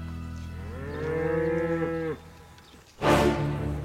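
Charolais cattle in a Burgundy pasture: one cow gives a single long, low moo lasting about a second, followed shortly by a brief burst of rustling noise.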